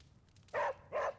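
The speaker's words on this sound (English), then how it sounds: "Just the same exact bark every time." A dog in the Midnight Suns video game gives two short identical barks in quick succession, clear and close against a quiet background.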